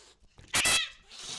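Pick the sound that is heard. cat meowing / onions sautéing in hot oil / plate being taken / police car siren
cat meowing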